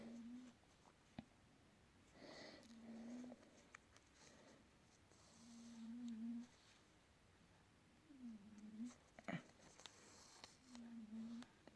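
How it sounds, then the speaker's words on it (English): Pet cat snoring softly indoors: faint, low, rhythmic rasping breaths repeating every couple of seconds, quiet and close, with small handling noises in between. "My cat is snoring."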